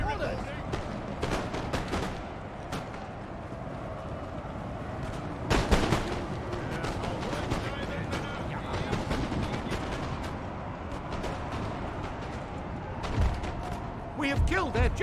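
Cannon and rifle fire crackle through a Napoleon: Total War battle, steady scattered shots with a few heavier booms around six and thirteen seconds, a continuous dense barrage with voices mixed in.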